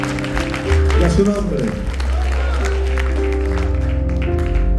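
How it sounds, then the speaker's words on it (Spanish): Congregation clapping during a Spanish-language church service, applause audible beneath loud music with sustained tones and a voice speaking over the top. "Dale un aplauso al Señor"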